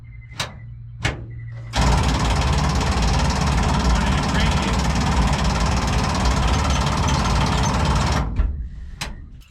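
An old car engine that has sat unstarted for 32 years cranks over in one long, loud, grinding stretch of several seconds, preceded by a couple of sharp clicks.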